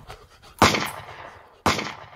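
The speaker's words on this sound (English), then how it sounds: "She's shooting and you just standing there." Two sharp gunshots ring out in a comedy skit, about a second apart, each a sudden loud crack followed by a decaying tail, with no voices.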